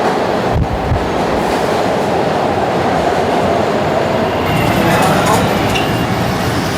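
A night commuter train rumbles and clatters into a station, loud and close, with steady rolling wheel noise and faint squeals as it slows.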